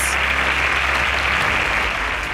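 An audience at a quiz show semi-final breaks into loud, dense applause for a correct answer, a continuous wash of clapping throughout.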